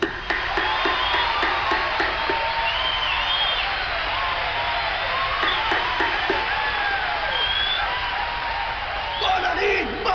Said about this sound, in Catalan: oferim-li un fort aplaudiment